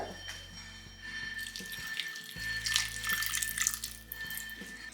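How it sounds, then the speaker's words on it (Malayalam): Water pours into a pot in a steady splashing stream, close and moderately loud, with faint clinks of the vessel and no one speaking. "ഇതിലേക്ക് നമ്മൾ കുറച്ച് വെള്ളം ഒഴിച്ചു കൊടുക്കുകയാണ്"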